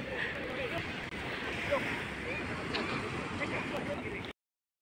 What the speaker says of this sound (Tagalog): ang laki ng mga alon doon sa may unahan, malaki ang mga alon na.